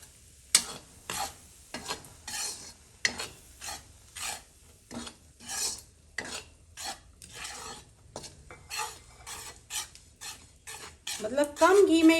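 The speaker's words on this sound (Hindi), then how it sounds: "और अब मैं आटा भून लेती हूँ।" Wheat flour roasts in a small amount of ghee in a pan for panjiri, a utensil scraping and stirring in repeated rhythmic strokes, close and moderately loud, with a faint sizzle rising near the end.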